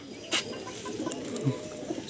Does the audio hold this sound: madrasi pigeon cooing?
yes